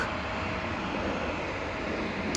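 An 18-year-old Airbus A320 bound for Cork rumbles steadily at Amsterdam Schiphol's Polderbaan, a broad, even engine roar of moderate loudness heard from a distance with no voices.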